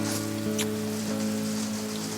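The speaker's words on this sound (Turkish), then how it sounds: "Yağmur işte." Steady rain falls and patters on surfaces outdoors, a continuous close hiss with a faint tonal hum running underneath, with no voices.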